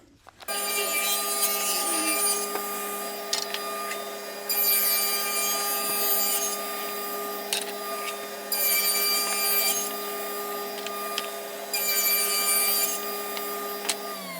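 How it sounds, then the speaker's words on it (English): A saw rips pine plywood and leftover pallet wood into two-inch strips, a steady loud motor whine running throughout with repeated bursts of high cutting noise as each pass goes through the wood. "So what I'm going to do is rip all of these down to 2 inches wide."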